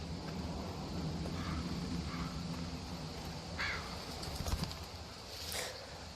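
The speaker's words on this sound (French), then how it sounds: "Ah non, on va manger le corbeau." Crows caw a few times amid the ambient outdoor soundscape of The Walking Dead video game, the calls moderately distant and faint over steady low background noise.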